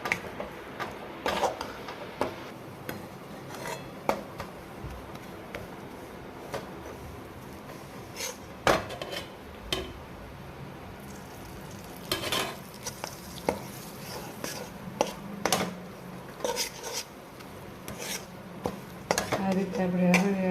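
Rajgira flour slowly roasting in ghee in a pan over a low flame, with a spoon scraping and tapping the pan in irregular strokes, faint sizzling and a voice talking throughout.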